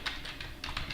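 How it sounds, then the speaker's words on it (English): A few quick, soft keystrokes on a computer keyboard tap out close by, faint and uneven, with no voices. "if I start typing"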